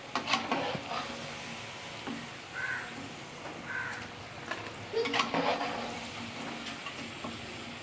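French fries crisping in hot ghee on a stove as they are lifted out: a soft, steady sizzle with close clinks and stirring scrapes from a utensil, fairly quiet throughout.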